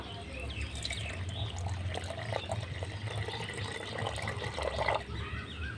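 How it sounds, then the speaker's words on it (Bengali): Water poured into a mixer jar holding semolina, a steady close running trickle and splash that continues throughout at even loudness, with faint background noise and no talking. "মিক্সিং জারে আমি সুজিটা দিয়ে দেবো জলটা দেখুন পরিমাণ মতো দেব"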